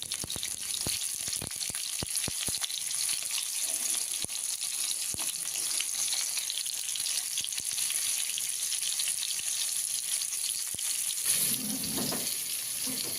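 Pointed gourd pieces fry in hot oil with nigella seeds and turmeric, giving a steady close sizzle dotted with sharp crackles and pops throughout, with no talking.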